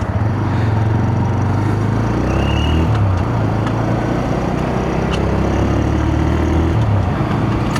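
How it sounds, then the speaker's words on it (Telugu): A TVS Raider 125 motorcycle runs nearby with a steady, fairly loud exhaust drone, its low engine note dipping and shifting slightly partway through, heard continuously without talking. "ఎగ్జాస్ట్ సౌండ్ అయితే కొద్దిగా లౌడ్ వస్తూ ఉంది."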